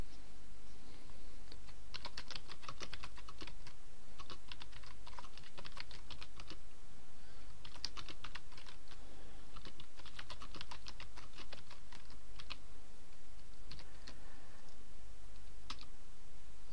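Fingers type text on a computer keyboard, giving quick bursts of light key clicks with short pauses between them over a low, steady room hum, no voices.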